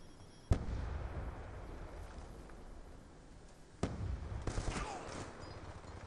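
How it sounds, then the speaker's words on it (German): A grenade explosion in Call of Duty Black Ops 2: a sharp blast, then a quieter stretch of gunfire ambience and a second burst followed by crackling pops and scattered shots, mid-distance. "Granate!"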